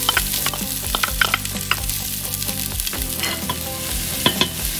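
A bay leaf frying in warm olive oil for spaghetti bolognese: a steady sizzle with intermittent clinks and scrapes of stirring over a constant background hum, close and moderately loud.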